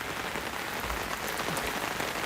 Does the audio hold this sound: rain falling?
yes